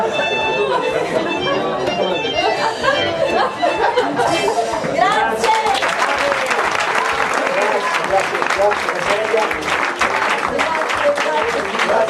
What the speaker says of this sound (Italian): E a questo punto continuiamo l'applauso per gli chef